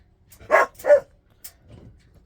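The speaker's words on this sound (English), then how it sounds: "Do you guys talk to your dogs when they bark?" A dog barks twice in quick succession, close and loud, followed by a softer short yip and faint low whimpering, with no talking.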